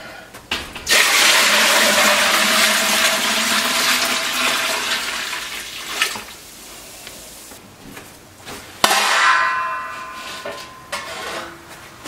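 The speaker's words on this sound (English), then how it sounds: "We're going to pour this broth all back in." Bone broth poured back into a rinsed pot, a sustained splashing, gushing pour lasting several seconds, then a clank and a second shorter splashing pour.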